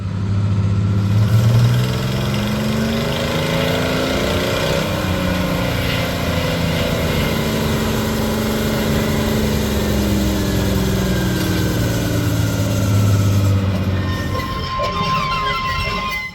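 A 1941 diesel switcher locomotive, once at a logging museum, runs loud and near with a steady, throbbing low engine rumble and shifting harmonic tones, held evenly throughout without any voices.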